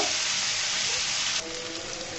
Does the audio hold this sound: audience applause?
no